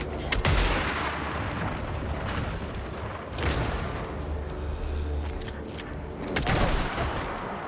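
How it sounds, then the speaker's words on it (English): Shotgun blasts from the horror game Alan Wake 2 boom out three times at spaced intervals, sharp and heavy over a rumbling, murky game backdrop, with no talk. "At least the shotgun doesn't hurt that badly."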